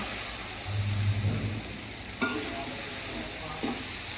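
Okra (bhindi) frying in a pan over high flame, a constant loud sizzle with a low stirring scrape and a couple of sharp spoon knocks against the pan.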